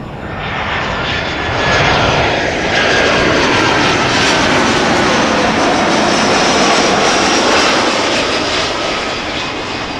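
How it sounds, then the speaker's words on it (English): An EasyJet Airbus A319 arriving at Amsterdam Schiphol, its jet engines a loud sustained roar that swells, holds steady, then eases off slightly as the aircraft passes close by. "EasyJet arrived from Prague, A319."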